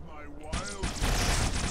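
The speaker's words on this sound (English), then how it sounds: "And it shoots needlers." Needler weapon fired in the video game Halo 2, a burst of rapid sharp shots that swells into a loud, dense volley filling the last second, with a voice briefly heard at the start.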